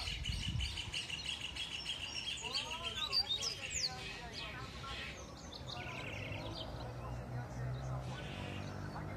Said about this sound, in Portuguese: Olha o coleiro Pavilhão aí, ó.